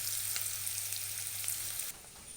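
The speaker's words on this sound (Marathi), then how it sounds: "चांगला तेलामध्ये चांगला तळलेला आहे त्याच्यावर आपला कांदा टाकायचा आहे" Chopped onion frying in hot oil in a village-style home kitchen, a steady close sizzle with faint scrapes, cutting to a quieter hiss near the end.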